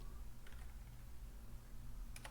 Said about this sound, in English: We're going to hit the up arrow on the keyboard.